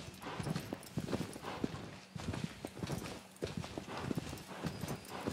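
Hooves of the horse Agro clip-clop at a walking pace through woods in Shadow of the Colossus, a steady rhythmic plodding that is close and moderately loud, with no talk over it.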